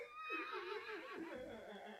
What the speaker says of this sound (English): Oh, that sounded like a horse first.